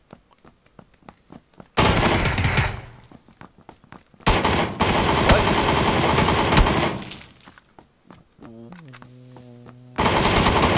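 A Vector submachine gun emptying a full magazine in PUBG, heard as loud rapid-fire bursts separated by pauses, with quieter game sounds and tones in between.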